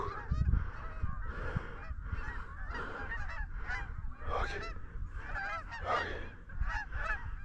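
Canada geese in a flock honk repeatedly and loudly during a goose and turkey hunt, calls overlapping in dense bursts with brief lulls between waves.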